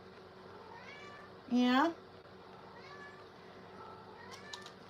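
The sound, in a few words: cat meowing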